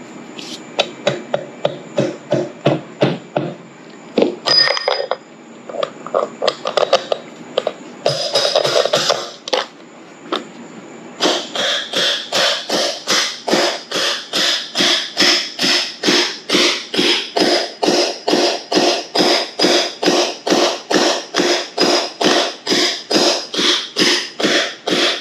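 Hammer tapping bearings into a Sears Roper mini bike during restoration: a long run of sharp, evenly spaced metallic taps, close and loud, with a brief pause and scraping before a steady faster tapping sequence.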